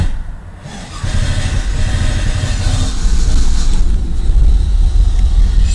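A 1994 Camaro Z28 V8 turns over and catches, a brief quieter pause followed by a steady, deep rumbling idle close to the microphone.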